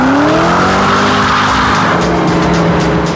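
A Ford GT supercar roars loudly past at close range, its engine note rising and falling while tires squeal in long sliding howls over the continuous throaty drone.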